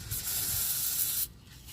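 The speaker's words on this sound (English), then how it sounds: "I'm going to go ahead and hit it with some WD-40 so that we can get this broken loose." A can of WD-40 sprays a steady hiss onto a seized oxygen sensor on a car exhaust, one continuous near burst lasting over a second before it stops abruptly.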